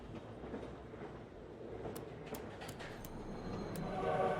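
Train running on tracks in a co-op puzzle video game, a steady rumbling roll with faint rhythmic clicks and a slight rise in level toward the end, no voices.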